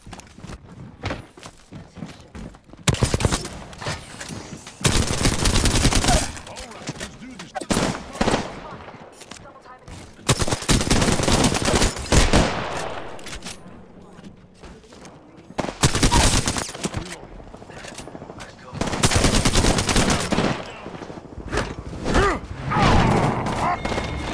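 Apex Legends gunfire crackles in long loud rapid bursts, alternating with quieter gaps, footstep sounds and a talking player.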